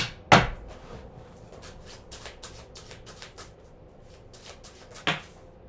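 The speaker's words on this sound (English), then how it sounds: "Let's do one more shuffle." Tarot cards are shuffled, with two sharp slaps at the start and near the end framing a run of soft, quick riffling flicks.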